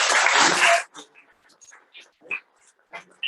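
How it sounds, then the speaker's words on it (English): A loud, dense burst of applause from a Toastmasters club meeting in Bangalore lasts under a second, then cuts off into quiet scattered small sounds and faint voices. "So I want you all to give each one of them a huge round of applause."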